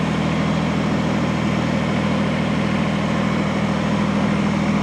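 A Kubota BX compact tractor idles with a steady, loud low rumble that runs unbroken and evenly throughout, with no voices over it.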